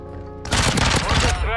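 Burst fire from a rifle in Call of Duty: Modern Warfare 2, a loud, sudden crackling volley of rapid shots after a quiet moment, ending with a brief ringing tail.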